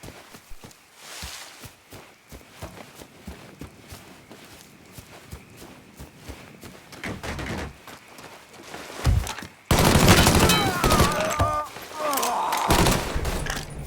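Mafia 3 video game combat: rapid gunshots and bursts of automatic fire mixed with footsteps and thuds, building to loud, dense shooting near the end, with shouted voices over it.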